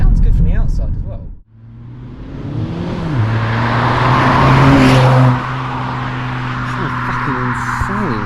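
A 2023 Ford Focus ST estate facelift with automatic gearbox accelerates hard, its engine note climbing and holding strong and close, steady throughout and without speech over it.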